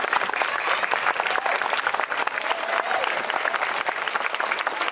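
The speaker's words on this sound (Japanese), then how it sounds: "拍手お願いします" Crowd applause at a Muay Thai bout during Thai Festival 2015 in Osaka, a dense, steady clapping audience voting for a fighter, lasting several seconds with no clear talk.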